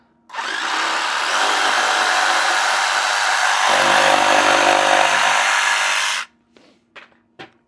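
A power drill runs loudly for several seconds, its pitch dropping as the bit bites into wood, then stops, followed by a few soft clicks.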